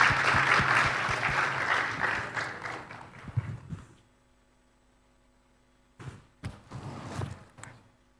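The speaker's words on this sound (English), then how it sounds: "if we could give the panel, our excellent and very, very experienced panel that we've been able to bring together today, a round of applause" A conference audience applauds a panel of speakers on an energy financing stage: dense, steady clapping for about four seconds that tapers off, then a quieter scattered second burst of claps over a faint mains hum.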